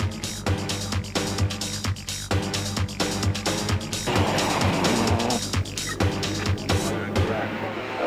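Ford Escort Mk2 rally cars on a gravel stage during a Mark II challenge event, engines revving and popping in repeated bursts with gravel spray, loud and close throughout, with a commentator's voice running over the noise.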